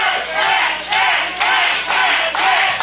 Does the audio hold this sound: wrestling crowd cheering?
yes